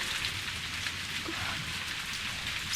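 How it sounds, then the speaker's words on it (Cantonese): Steady rain falls in a wet outdoor setting, a soft continuous hiss of drops without a break and no voices. "落雨啦"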